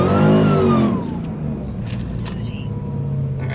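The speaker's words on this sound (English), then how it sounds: "We're gonna do a nice little burnout beforehand and then another burnout maybe right in the box" A 600 HP Mercedes revs hard in a short burst at the start of a no-prep burnout before a drag run, then drops to a lower rumble. Someone talks faintly nearby.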